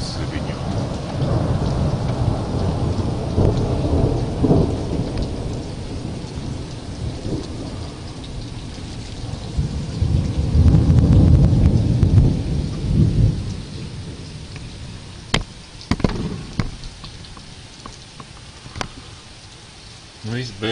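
Early-morning thunderstorm in Liepāja, with heavy rain pouring steadily throughout and rolling thunder swelling loud midway, then easing to scattered sharp drops and distant rumbles near the end.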